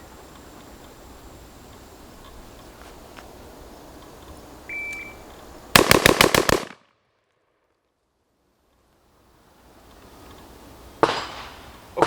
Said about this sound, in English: from the beep, from the low ready, which is muzzle pointed at the feet of the target, I'm going to come up and I'm going to shoot 6 shots